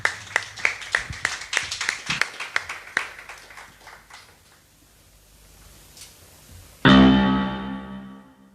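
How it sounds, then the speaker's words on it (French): A church congregation bursts into clapping, a run of sharp, close handclaps that thins out and fades, then swells again into loud, sustained applause at the end. "Pendant qu'elle arrive, on acclame"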